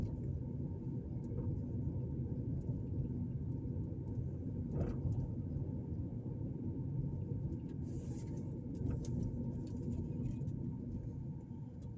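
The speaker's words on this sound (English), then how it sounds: "Right now I'm driving down Alexander Avenue." A car drives down Alexander Avenue in East Chicago, Indiana, heard from inside as a steady low engine and road rumble with faint light ticks and rattles over it.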